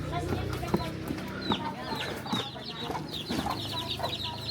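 Chickens cluck repeatedly at close range in a Philippine yard, short rhythmic clucks and squawks layered over a low steady hum.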